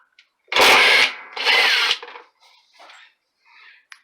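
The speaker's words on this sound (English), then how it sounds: "Using an 11mm socket, we gently secure the socket onto the bolt and wait till you start seeing smoke." A power drill with an 11mm socket spins out a transmission bolt on a Maytag MVWB835DW3 washer: two loud, close whirring bursts, then faint scraping and a sharp click.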